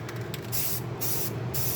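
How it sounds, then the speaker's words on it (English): Spray paint from an aerosol can hisses in three sharp bursts of roughly a quarter to half a second each, close up, while painting parts on an S15 car during an engine build. "there's a great thing called spray paint"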